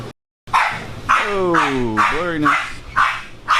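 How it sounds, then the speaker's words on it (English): A shop dog barks repeatedly and loudly up close indoors, with a whining yelp in the middle and a voice briefly over it. "our shop dog is letting us know there's someone in the office"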